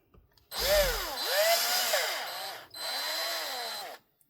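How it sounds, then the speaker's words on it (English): Handheld power drill whines and wavers in pitch as it works through the plastic of a Tamiya CW-01 RC chassis in two close, loud bursts separated by a brief pause. "Get drill out and just tease it through."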